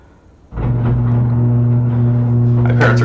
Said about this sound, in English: that's the sound of a garage door